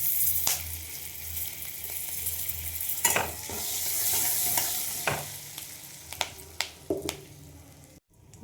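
Black mustard seeds and curry leaves sizzle in hot oil, a steady frying hiss broken by sharp crackles and pops as the seeds burst, with occasional stirring clatter and no talk.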